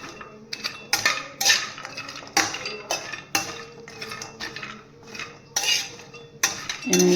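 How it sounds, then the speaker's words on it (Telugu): Cashews and coconut dry-roasting without ghee in a pan, stirred with a metal spoon, giving close, sharp scraping clinks against the pan at an irregular rhythm. "ఇది జీడిపప్పు అనమాట కొబ్బరి కూడా ఇలా వేయించుకోవాలి"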